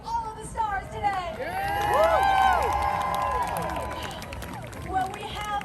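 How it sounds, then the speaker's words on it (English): A crowd cheers and shouts at the Super Nintendo World grand opening ceremony, swelling to a loud peak midway and then easing back, with scattered applause and voices calling out throughout. "Another round of applause for all of the stars today!"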